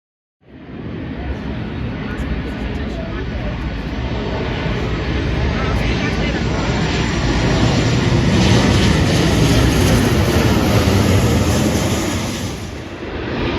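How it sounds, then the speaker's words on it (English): An Airbus A380 airliner passes overhead near Sydenham, a loud, sustained jet engine roar that builds over several seconds and holds steady. "We have an A380."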